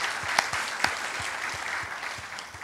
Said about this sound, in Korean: 우리 위로하고 감사하는 박수를 하겠습니다.